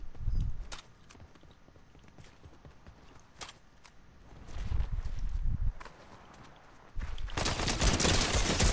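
Light machine gun firing in a video game: scattered shots and clatter early on, building to a dense, loud sustained burst over the last couple of seconds.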